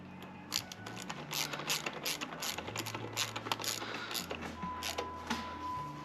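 Ratchet clicking steadily in quick bursts while snugging down bolts during wiring work on a Jeep, close and fairly quiet, with soft mechanical handling between strokes.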